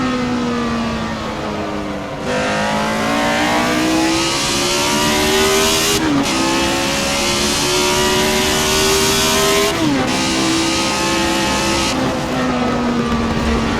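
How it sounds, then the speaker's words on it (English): A McLaren M23 V8 race car engine in the video game Assetto Corsa roars continuously at high revs, pitch climbing through gears and dropping sharply at shifts, loud and close throughout. "You can just hear that V8 singing, even when I'm driving it."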